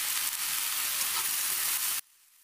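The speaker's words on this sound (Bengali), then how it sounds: "ফুলকপিগুলো একটু ভাজা ভাজা করবো।" Cauliflower frying in a pan gives a steady, loud, close sizzle that cuts off abruptly near the end.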